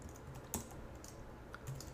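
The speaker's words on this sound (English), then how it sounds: "I'm just going to begin typing away here." Faint typing on a computer keyboard while writing code, a steady patter of soft key clicks with a few sharper taps, low and close.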